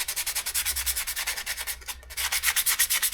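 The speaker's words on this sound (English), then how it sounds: "scuffing them up takes that bit of glaze back off them" Glazed brake shoes from a Yamaha XS 250 being scuffed during a restoration, producing a steady, rhythmic abrasive rubbing with repeated strokes, close and fairly loud throughout.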